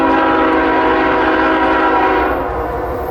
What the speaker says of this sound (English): This was manifest train Q434 making its way to Selkirk,